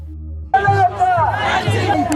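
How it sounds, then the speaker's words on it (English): A crowd packed outside a pub in the UK at a protest against illegal immigration: a close voice speaks over loud overlapping shouts and chatter from the gathered people, a continuous rowdy din. "you see the crowds here come to a squeezing point outside the pub"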